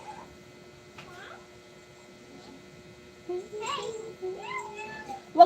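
A house cat meows indoors during a home livestream, with a few short meows near the end over a steady mains hum and faint background talk.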